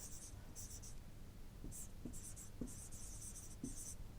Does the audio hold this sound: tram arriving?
no